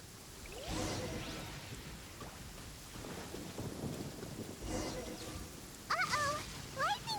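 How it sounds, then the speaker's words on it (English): Rain and rolling thunder of a lightning storm in the Genshin Impact video game, a steady low rumble and hiss with a sharper crackling burst near the end, fairly quiet overall. "Uh-oh! Lightning storm!"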